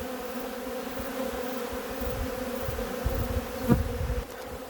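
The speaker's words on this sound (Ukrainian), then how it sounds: "Бджоли атакують все, що солодке." Bees buzz in a steady, droning swarm close by at an apiary, attacking a hive, a continuous hum that swells slightly near the end.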